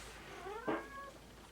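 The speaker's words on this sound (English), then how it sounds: "My cat's mad at me, obviously." An indoor house cat gives a single sharp, annoyed meow, short and close, preceded by faint rising chirps, with no talking.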